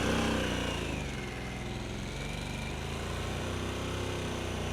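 A 2022 Harley-Davidson Sportster S V-twin runs steadily while being ridden, a continuous moderate engine drone with wind rush and no notable revving changes.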